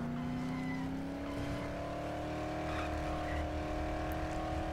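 Car engine in the Dead Island video game holding a steady high-revving drone, a continuous loud hum that climbs slightly in pitch and then stays level, close and alone without talk.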